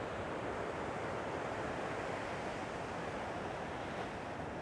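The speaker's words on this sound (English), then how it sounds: "when the sets come, there's so many waves in them" Ocean waves break at Bells Beach during a surf session as a continuous, dense roar of surf mixed with wind rumble on the microphone, steady and loud throughout with no voices.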